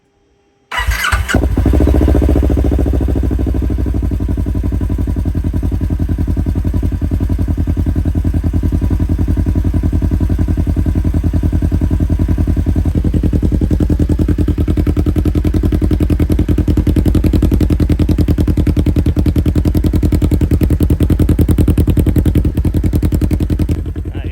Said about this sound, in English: And this thing's ready to fire up.